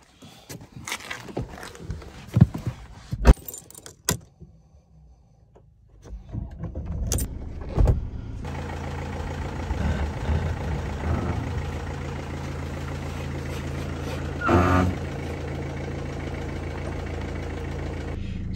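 Keys jangle and clunks, then a Mercedes C220 engine in limp mode starts and runs steadily as the car rolls down off ramps, with a brief louder burst midway.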